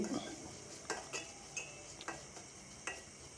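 A spoon stirs brown gram sautéing with salt in a pan, a soft faint sizzle beneath several light metallic taps and scrapes spaced about half a second apart, close by and without speech.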